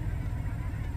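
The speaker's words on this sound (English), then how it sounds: "Look at all the fucking geese." A flock of a few thousand geese honks in a busy, overlapping chatter under a steady low rumble, fairly faint.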